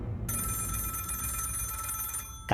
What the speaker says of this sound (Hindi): हताश होकर वे जैसे ही बाहर निकले तभी फ़ोन की घंटी बजती है।